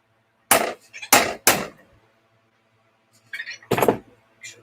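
Sharp close hammer blows whacking a pin out of a Losi Monsta Nut RC car part, three strikes in quick succession, a pause with small metallic clinks, then another hard hit.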